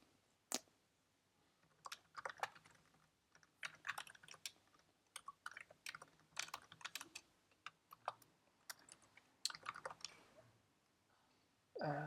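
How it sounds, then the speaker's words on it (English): Rapid, uneven bursts of typing on a computer keyboard during a coding session, close and fairly quiet, with keys clicking in quick runs and short pauses between them, alone without talk. "let me first type this"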